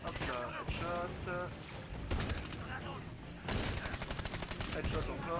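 Quiet bursts of gunfire from the shooter game Medal of Honor Warfighter, salvos of rapid shots separated by pauses, mixed with faint voices and game sounds.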